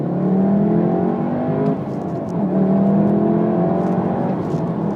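A 2017 Volkswagen Golf R engine pulling hard under acceleration, a loud, steady close drone with a brief dip as the revs shift, then climbing again.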